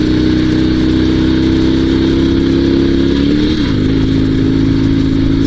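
A Dnepr two-wheel-drive sidecar motorcycle runs at full throttle off-road with its clutch failing, a loud, steady, close engine roar that shifts pitch briefly partway through, with no voices.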